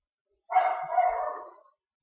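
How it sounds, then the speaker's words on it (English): Several dogs barking outdoors in one continuous burst of overlapping barks, moderately loud and somewhat distant, lasting over a second before stopping, with no talk over it. "Pay no attention to the barking dogs outside."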